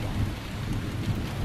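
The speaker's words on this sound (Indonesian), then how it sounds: "tiba-tiba hujan turun dengan derasnya" Sudden heavy rain pours down steadily with a deep rumble of thunder underneath, a dense, continuous wash of sound with no voices.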